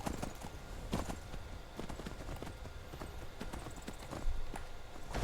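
Horses walk in the video game Skyrim, their hooves clip-clopping in an uneven, moderately close rhythm over faint ambient sound.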